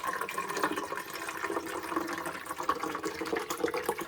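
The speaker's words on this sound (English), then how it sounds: "take the descaling solution. You're going to pour the whole bottle into here." Descaling solution poured from a bottle into the water reservoir of a Keurig K-Select coffee maker, a steady close liquid splash and trickle running continuously with no talk over it.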